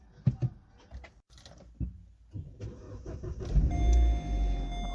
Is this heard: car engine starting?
yes